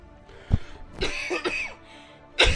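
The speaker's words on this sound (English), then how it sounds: "I'm trying to hold back a cough like a motherfucker right now." A few sharp coughs burst out close to the microphone, separated by brief pauses and some muffled throat noise.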